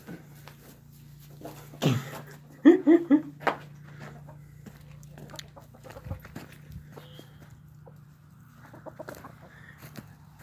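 A backyard hen eating a snake gives a short burst of quick, close clucks, with scattered scratching and pecking movement around it and a faint low hum in the background.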